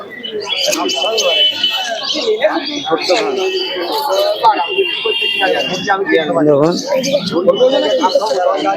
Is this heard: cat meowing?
no